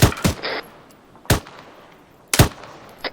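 Gunfire in the military shooter ArmA 3 sounds as sharp, loud single shots and short double bursts, spaced about a second apart and heard without talk.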